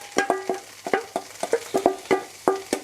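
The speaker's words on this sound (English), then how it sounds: "we're already going to throw in our onion garlic mix" Onion and garlic mix stirred in a Dutch oven, a close series of rhythmic scraping clacks from the utensil against the pot, about a dozen strokes over a faint sizzle, with no talk.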